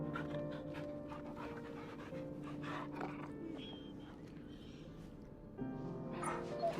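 A dog panting and softly whimpering in the video game Final Fantasy XVI, steady quick breaths with faint whines, quiet and continuous over a low game soundscape with a tonal drone beneath.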